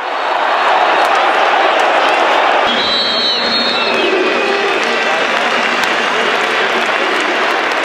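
Football fans in a stadium crowd at a Magdeburg versus Dresden match clap and cheer together in a dense, loud, continuous wash of applause.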